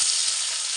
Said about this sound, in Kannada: ಎಣ್ಣೆ ಕಾದ್ಮೇಲೆ ಸಾಸಿವೆ ಹಾಕಿದ್ದೀವಿ, ಜೀರಿಗೆ